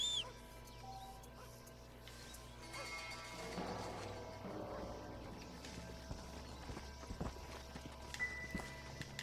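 Horse hooves clip-clop in the Red Dead Redemption video game, played on PC, a steady trotting patter under faint in-game ambience with occasional louder knocks, no talk.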